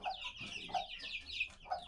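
Chickens cluck close by at a rural home in Galicia, Spain, several soft rapid clucks overlapping in a short quiet run.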